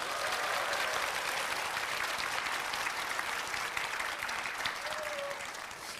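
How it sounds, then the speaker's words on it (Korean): Sustained applause from an audience at a public talk event in Chungju, a steady dense wash of clapping lasting throughout without pause. "박수!"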